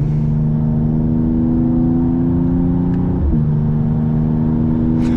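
A 2023 Mercedes-AMG E53 Coupé pulling hard, heard from inside as a loud, steady, rising engine drone with a constant road rumble underneath, a brief shift-like dip midway, no talk.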